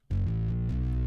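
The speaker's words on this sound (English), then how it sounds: "It sounds like a bass guitar with like a lot of overdrive on it." A heavily overdriven synth bass from an MX61 keyboard enters abruptly and holds loud, buzzy sustained notes that step between pitches in a looping line.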